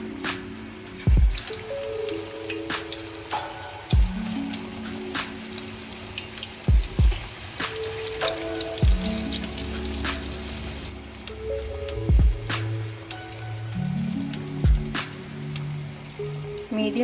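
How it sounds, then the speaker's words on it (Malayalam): Pumpkin pieces fry in hot oil with a continuous close sizzle, punctuated every few seconds by sharp thuds and clatters as pieces are set into the pan. "ഓയിൽ ചൂടായി വന്നിട്ടുണ്ട്. ഇതിലേക്ക് നമുക്ക് ഓരോ പീസ് പംകിൻ ഇട്ട് കൊടുക്കാം."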